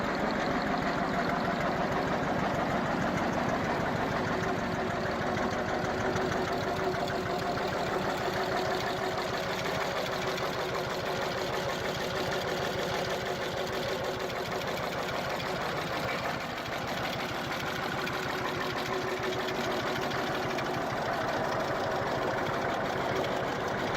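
A 1932 Deutz tractor's water-cooled flat-twin diesel engine, rated 37 horsepower at the drawbar, runs steadily at idle with a dense, even chugging throb that stays close and loud throughout.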